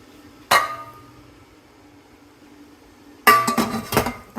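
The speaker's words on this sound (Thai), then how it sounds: "เดี๋ยวตำแตงเลยค่ะ" A pestle knocks hard in a mortar while Thai cucumber salad is pounded in a home kitchen: one sharp clack, a quiet pause, then a quick burst of repeated loud, clattering thumps nearby.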